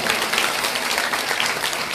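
A crowd at a Srimad Bhagwatam katha religious gathering in Ghaziabad claps in a dense, continuous round of applause, loud and sustained throughout.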